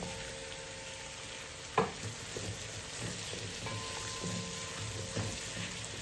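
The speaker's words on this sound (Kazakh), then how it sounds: "Етімізге көкөністерімізді саламыз" Meat frying in a pan with pepper and potato, a steady sizzling hiss with light stirring scrapes and a sharp clatter near the start, no talking.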